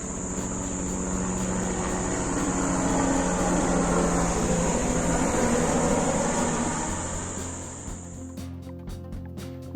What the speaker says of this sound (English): a wonderful little show from the local farmers using a helicopter to crop spray the small farmland area surrounding us